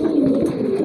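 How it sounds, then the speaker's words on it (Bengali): A racing pigeon coos close by, one low continuous throaty coo that swells and wavers, heard alone. "এটা বিএন বাংলাদেশ রেস করা কবুতর"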